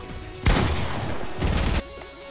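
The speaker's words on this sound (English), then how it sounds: "What shotgun are you using?" Shotgun fire in Fortnite, two loud blasts a second apart, each followed by a short rattling tail, heard over quieter game sounds.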